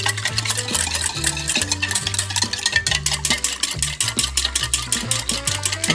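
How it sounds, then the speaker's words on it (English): A maple syrup mustard salad dressing for a shaved Brussels sprout salad is whisked in quick, even rhythmic strokes, the fast ticking of the whisk running continuously under background music. "just give everything a good whisk so that it's thoroughly mixed and emulsified"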